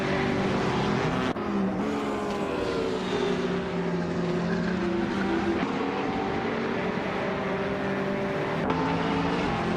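GTE and GT3 race cars scream around a tight-cornered circuit in a racing video game. Engine notes overlap in a continuous loud whine that shifts pitch as the cars accelerate and brake, with no pauses.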